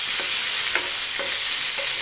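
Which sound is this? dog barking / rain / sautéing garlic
sautéing garlic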